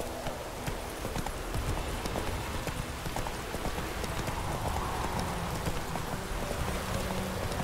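Roach the horse gallops in The Witcher 3, a steady rapid clip-clop of hooves that runs the whole time over a dense game backdrop, with a faint whinny in the mix.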